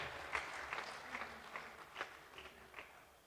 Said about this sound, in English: Please give the round of applause for the Shubham Tanks and the Liners Private Limited.